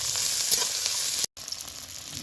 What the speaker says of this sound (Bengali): এই যে দেখো রসুন কুক করে নিব।